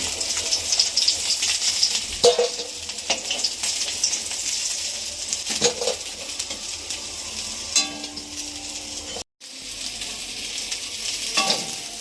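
Rohu fish frying in hot oil gives a loud, steady hiss and crackle, with occasional utensil scrapes and clatters and one brief cut to silence partway through.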